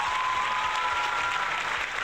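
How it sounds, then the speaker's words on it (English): Applause sound effect played over a live stream: a steady, dense wash of many hands clapping that runs for the full two seconds at even loudness, with no voices over it. "Did you hear the applause?"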